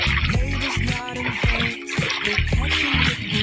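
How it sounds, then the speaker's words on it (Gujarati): Irrigation water flows into a small cotton field, a steady close splashing and gurgling rush with bubbling, heard under intermittent talk. "તો મારા કપાસમાં જો કેમ પાણી હાલે."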